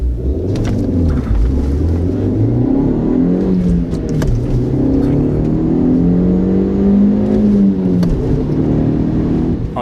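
Audi TT 1.8 turbocharged four-cylinder engine, 225 horsepower, revving up and down in loud, close swells with a rising and falling pitch and a rumbling low end.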